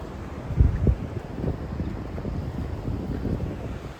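Wind buffets the microphone beside the sea at a suspension bridge in Vengurla, with a steady low rumble of surf and gusts, one stronger thump early on, and no voices.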